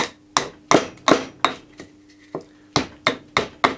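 An axe chops green wood to shape a tent peg, about ten sharp, close, hard strikes in an uneven rhythm, with no talking.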